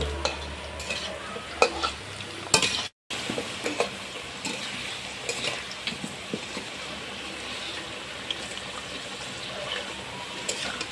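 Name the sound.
potatoes frying in hot oil in a wok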